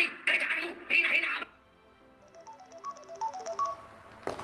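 A telephone rings with a few electronic tones and short melodic beeps, moderately loud, following a brief stretch of a voice speaking.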